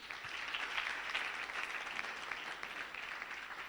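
Sustained crowd applause at a student and pupils' conference, broad steady clapping from many hands filling the whole stretch with no talk over it.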